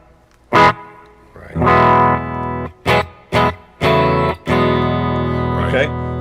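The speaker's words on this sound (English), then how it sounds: "scene 1 is just nothing but clean and a little hint of reverb" An electric guitar through an Axe-FX II XL plays a clean tone with a slight hint of reverb, a few struck chords and short notes ringing out, separated by brief gaps.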